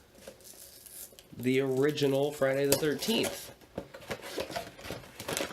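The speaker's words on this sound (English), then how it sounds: "So the noise you hear is me getting my coffee ready." Dishes and cutlery clink and clatter in quick, irregular bursts as coffee is prepared close by, while someone talks over them.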